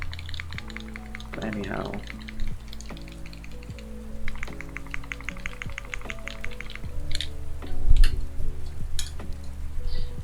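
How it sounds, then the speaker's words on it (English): Nintendo Switch Joy-Con controller triggers clicked by hand in quick, uneven bursts of small plastic clicks, close to the microphone in a quiet late-night ASMR setting, with a soft voice speaking briefly and a low steady hum beneath. "these are Nintendo Switch Joy-Cons. I'm using the left and right triggers of it."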